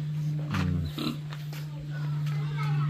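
A pig grunts in a few short, low bursts on a farm, close by, over a steady background hum with a person talking nearby.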